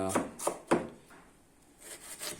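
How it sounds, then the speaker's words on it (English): Minced beef, chicken and onion filling is worked by hand or spoon in a bowl, three distinct squelching strokes in quick succession followed by quieter scraping and rubbing, close and moderately soft. "we're gonna mix it all up together to make the filling"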